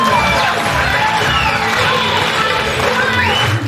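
Crowd at an event cheering and shouting for a team, a loud, dense roar of voices with whoops and yells filling the whole stretch, close and sustained.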